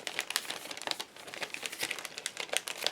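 A paper envelope holding cardboard and confetti is opened up close, giving continuous crinkling and rustling with sharp crackles and small tearing sounds throughout.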